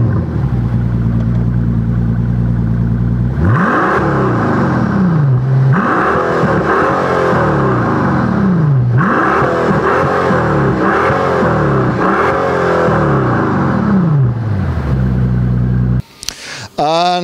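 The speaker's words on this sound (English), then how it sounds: "we have the double pipe exhaust system by AMG, where all the stuff is spitting out if you really push the" A 2014 Mercedes-Benz SL 65 AMG with a double-pipe AMG exhaust revs repeatedly, each loud close blip rising and falling in a series of sweeping engine pulls over a constant low drone, ending with a brief clatter.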